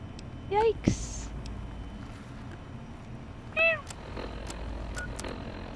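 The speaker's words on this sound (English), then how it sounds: "Says the kitty." A pet cat gives two clear meows, one near the start and another a few seconds later, close by, with some faint rustling and background noise in between.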